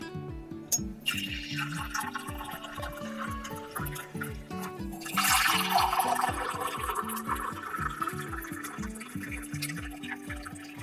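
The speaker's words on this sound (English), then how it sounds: "I'm gonna pour this into my French press" Coffee poured into a French press at home: a soft, steady liquid pour that grows louder and hissier partway through, heard under repeating background music.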